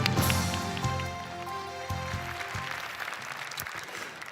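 An audience at the SDF 2018 forum applauds as a speaker is welcomed to the stage, giving a dense, rain-like patter of clapping that swells briefly and then eases off, with a low tonal hum underneath.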